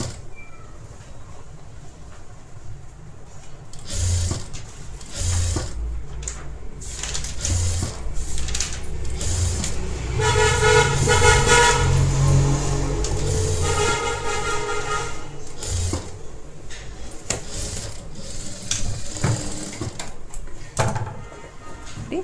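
A sewing machine stitches a blouse seam in bursts of mechanical whirring and clatter, running hardest in a sustained middle stretch, with handling knocks and short pauses around it.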